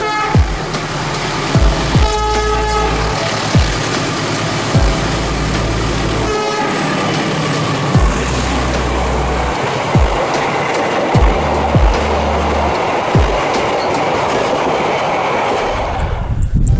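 A train in Surabaya rumbles past with rhythmic clickety-clack of wheels over rail joints, loud and close, with a brief horn toot near the start.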